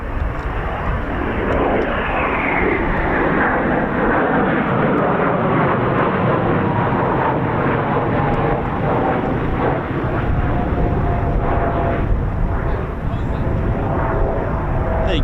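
A jet aircraft lands in the distance at RAF Coningsby, a loud sustained roar with a slowly falling whine that fills the air throughout, while people talk over it.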